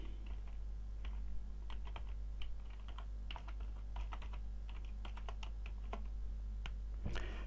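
Computer keyboard keystrokes while entering a spreadsheet formula, scattered clicks over a loud steady low hum, with a sharper tap at the end and no talking.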